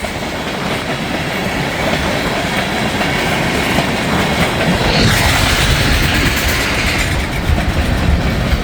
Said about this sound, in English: it's 2 trains at one because the end of this is an ethanol train